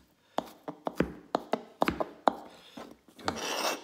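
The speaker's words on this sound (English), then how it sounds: "I'm going to do a quick bit of chopping there just to get them a little bit smaller" A knife chops spring onion on a wooden board, about a dozen crisp, irregular taps close by, ending in a short scraping rasp as the pieces are gathered.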